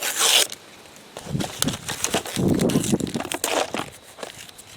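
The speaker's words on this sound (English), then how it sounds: "what I'm going to do is peel the label off" A paper label is peeled off a Lay's Stacks chip can, with a sharp tearing burst followed by crinkling and scraping rips, close and alone.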